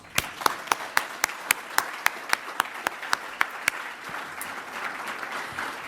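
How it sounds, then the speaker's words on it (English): A round of applause at a Toronto Region Board of Trade event: a series of sharp, evenly spaced claps stands out near the front before blending into a softer spread of clapping from the audience. "That's worthy of a big round of applause."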